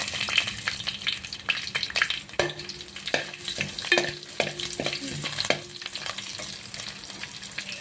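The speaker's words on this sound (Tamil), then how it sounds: "நல்லா இப்படி வறுத்து விட்டுக்கோங்க." Godhuma rava roasting in a pan while being stirred, a close, dry sizzle with repeated scraping strokes of the spatula and occasional knocks against the metal, continuous for several seconds without talk.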